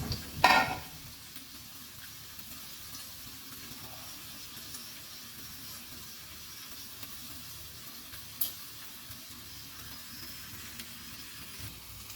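Taiwanese short sausages frying in a pan, a soft steady sizzle and hiss that runs throughout, with a brief louder clatter at the start and a small knock midway.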